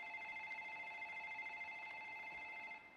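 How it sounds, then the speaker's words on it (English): A phone rings faintly with a steady electronic tone that holds for nearly three seconds, then cuts off. "This is somebody phone ringing?"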